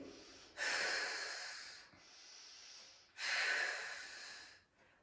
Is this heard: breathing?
yes